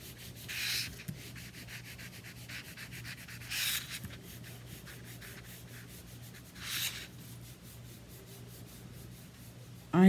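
Crayon coloring on paper by a kindergarten teacher, a soft continuous scratchy rubbing with brief louder bursts of strokes every few seconds, close and quiet, with no talking.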